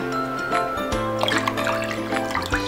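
Water pours into a bowl of sugar and soy sauce for a bulgogi marinade, a close, bubbling trickle with splashy drips throughout and no talk.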